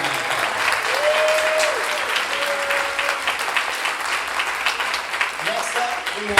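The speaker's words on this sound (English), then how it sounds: "Big round of applause." Loud, sustained round of applause from a school theater audience at a student one-act play performance, dense clapping filling the whole stretch with a few brief tonal whistles and murmurs mixed in.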